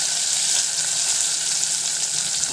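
Fennel seeds and cinnamon sizzle loudly in hot oil for mutton kuzhambu, a dense, even crackling hiss held steady and close throughout, with no voices.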